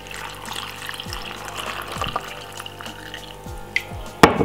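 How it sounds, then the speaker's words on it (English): Water is poured into a juice mixture ahead of blending, a light trickle and splash with a few drips and soft clinks in a kitchen setting. "Some water."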